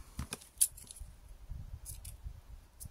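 Scissors snip during a craft project reusing old candles, a few quick crisp metallic cuts close by, followed by soft rustling and handling noise.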